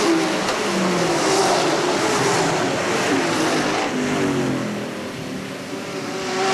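Sportsman race cars at Hales Corners Speedway roar around the track in heavy traffic, a loud steady engine drone that swells and shifts in pitch as cars pass, with no talking over it.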